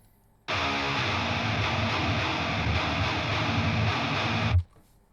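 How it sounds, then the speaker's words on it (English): Layered distorted electric guitars in a full mix: a loud wall of sound begins suddenly, holds dense and steady for about four seconds, then stops sharply, with no voices. "layering distorted guitar tones"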